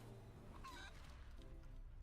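A chicken in the video game Divinity: Original Sin 2 gives a few short, faint clucks over a steady low background hum.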